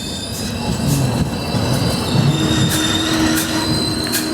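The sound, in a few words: 17630 Hazur Sahib Nanded Hadapsar Express train running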